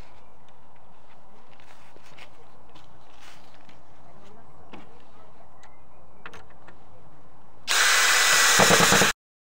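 A power drill driving screws into a horizontal slatted screen starts loud and close near the end with a strong buzzing whir, after quieter scattered knocks and handling noises.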